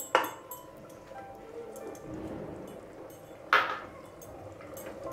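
A spoon stirs a curry of green onion and chana dal in a pan, with two sharp metallic clinks against the pan separated by soft, faint scraping and simmering.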